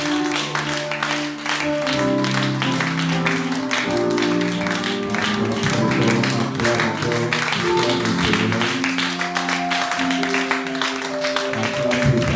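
A church congregation applauds and cheers, a dense, steady wash of clapping with crowd voices and music underneath, close and loud throughout.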